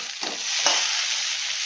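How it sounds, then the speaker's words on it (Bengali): Mixed vegetables with eggplant and chopped onion fry and are stirred in a pan, giving a steady close sizzle with brief scraping accents throughout. "বেগুন দিয়ে একটা 5 মিশালি পেঁয়াজ কুচিয়ে ভাজা করছি।"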